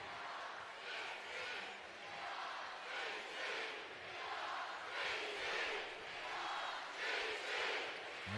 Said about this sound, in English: And you can hear the crowd right now